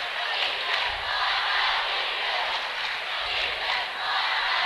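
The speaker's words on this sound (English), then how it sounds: "Cougar crowd getting into it now" Crowd in a school gym cheering and roaring at a boys' high school basketball super-sectional game between Illini Central and Cissna Park, a steady loud wash of voices with swells, and no talk on top.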